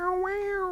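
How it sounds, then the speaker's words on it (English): A pet cat gives a single short, clear meow close by, rising then falling in pitch, with no talking over it. "you hear my cat?"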